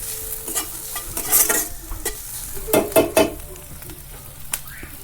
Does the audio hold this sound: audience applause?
no